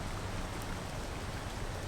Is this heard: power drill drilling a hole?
no